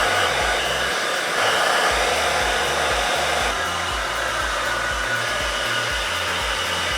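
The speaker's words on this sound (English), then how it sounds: "Now I'm going to just blow dry my hair." Blow-drying hair with a hair dryer makes a loud, continuous whooshing roar with a low pulsing hum, close to the microphone and steady throughout.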